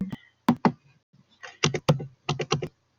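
A computer keyboard clatters with sharp, close key presses in quick irregular bursts, pausing briefly between clusters of typing, with no voice over it.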